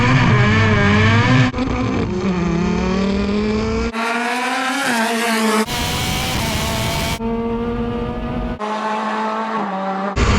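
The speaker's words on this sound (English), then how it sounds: "I'm in the Caterham that is literally an engine and four wheels and tyres" Loud, close engines of a McLaren 570GT and a Caterham 620R rev hard in a drag race and climb through gears with sharp shifts between pulls, one car screaming after another in a fierce acceleration run.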